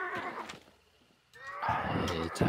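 A horse in the video game Hunt: Showdown whinnies twice, close and loud, with a quiet gap between the two neighs.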